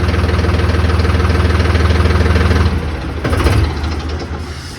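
A tractor engine with high, low and medium range gears and a PTO runs close by with a steady, throbbing idle, then its pitch dips and surges as the revs fall and rise again.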